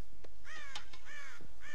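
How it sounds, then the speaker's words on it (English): Crows in the Red Dead Redemption video game give about four harsh, ringing caws in quick succession, loud and close over a steady background bed. "God damn crows!"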